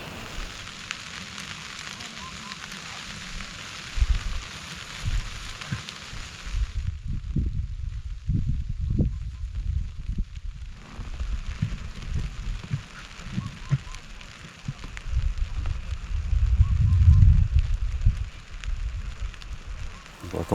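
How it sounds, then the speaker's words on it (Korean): Steady rain falling through the night at a dark freshwater fishing spot, a continuous broadband patter with louder bursts and swells of heavier drops, close by and without voices. "조금 있으니 비가 내리기 시작한다"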